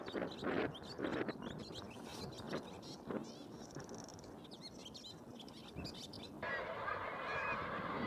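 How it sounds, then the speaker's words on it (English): Seabird colony on the nesting ledges of a treeless island, with a dense, continuous chorus of honking, chattering calls at moderate distance, steady throughout, and a brighter hiss of wind or surf rising near the end. "This is the wick, where thousands of seabirds nest on thin ledges"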